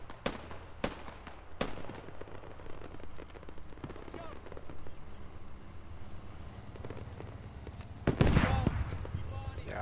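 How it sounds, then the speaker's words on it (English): Mortar and gunfire explosions in the tactical shooter Squad, with a Bradley nearby: several sharp booms early on and a heavier, louder blast near the end, heard under a continuous game rumble and voices talking. "There's mortars on the Bradley, right?"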